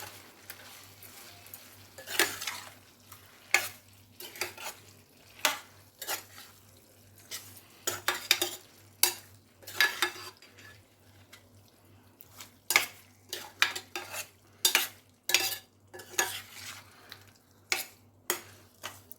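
A spoon scrapes and stirs thick prawn curry in a pan, repeated irregular strokes over a low background hum, close and fairly quiet.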